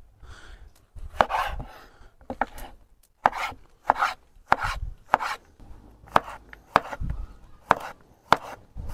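A knife slices tomatoes into half-rings on a cutting board in a quick irregular series of close, thudding cuts, with no talking.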